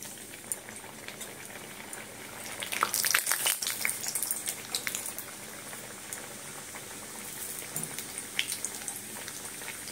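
Mung dal kachoris deep-fry in hot oil, giving a faint, continuous bubbling sizzle with a few louder crackling bursts near the start and no talking.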